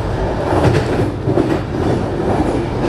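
Slow regional train running from Malacky toward Bratislava-Lamač, a loud continuous rumble of wheels on track with rhythmic clatter, heard from on board with no talk.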